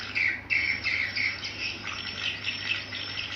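Swiftlets chirp inside a swiftlet house, a dense, continuous chatter of high twittering calls with faint insect-like buzzing, fairly close and steady, with no talking.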